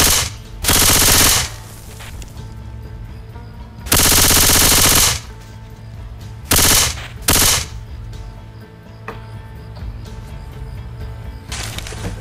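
Bursts of AK-47 automatic fire from the game Left 4 Dead 2, loaded with explosive ammo: loud sustained volleys around one, four and seven seconds, separated by quieter game ambience.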